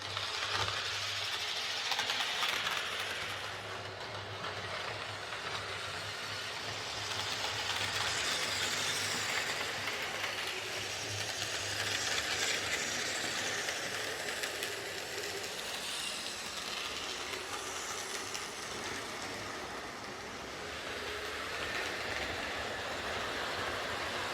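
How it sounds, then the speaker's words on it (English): A Replica Railways Class 45 model diesel locomotive, short of a traction tyre and prone to wheel slip, runs along model track with a steady, loud motor whir and rattling wheel rumble lasting throughout, with no voices. "the Replica Railways Class 45. Not the quietest thing in the world"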